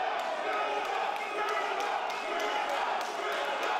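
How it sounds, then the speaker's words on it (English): A fight crowd cheers and roars steadily in support of a fighter in a tournament bout, a dense continuous wash of voices with faint rhythmic claps or stamps, heard from within the arena. "There you go, you can hear the crowd in the background there."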